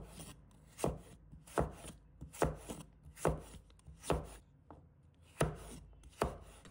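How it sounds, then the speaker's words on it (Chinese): Knife slicing peeled broccoli stems into pieces on a cutting board: about eight steady, evenly spaced chops, close and crisp, with no talking. "再切成片。"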